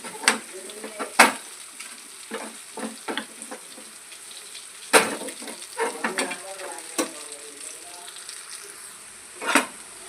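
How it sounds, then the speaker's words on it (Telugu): Fried prawns are added to a pan of curry leaves and stirred, sizzling softly under repeated clattering scrapes and knocks of a spoon against the pan. "ఇప్పుడు ఇలా ఫ్రై చేసుకున్న రొయ్యల్ని దీంట్లోకి యాడ్ చేసుకో."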